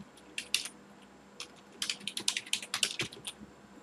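A domain name is typed on a computer keyboard in quiet bursts of crisp key clicks, first a few scattered taps and then a quicker run of keystrokes, close and alone.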